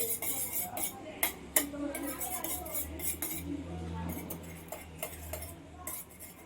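A fork or whisk clinks rapidly against a bowl while eggs are beaten for a bread omelette, a busy run of close, sharp metallic taps and scrapes with uneven rhythm.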